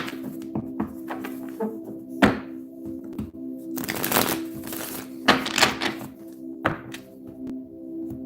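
Tarot cards are shuffled by hand close up: irregular soft taps and thumps, with a couple of longer riffling bursts, over a steady low background hum.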